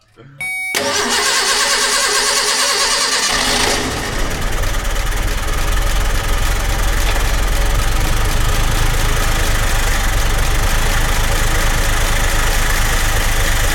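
Old car engine that has sat for nearly 15 years cranking and catching, then running loud and rough close by, sputtering and straining as though it won't take fuel, with voices under the noise.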